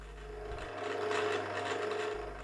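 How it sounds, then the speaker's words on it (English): A pillar drill fitted with a 15mm Forstner bit bores straight down into a wooden vase, giving a steady close grinding rasp of wood being cut over a constant motor hum that swells slightly mid-cut. "I get that put in the pillar drill and then I can start drilling."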